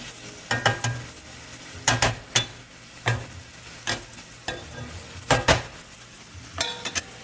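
Ground meat browns in a pan for beef chili, giving a soft sizzle under a series of loud, irregular stirring scrapes and clinks of a utensil against the pan, with no talk.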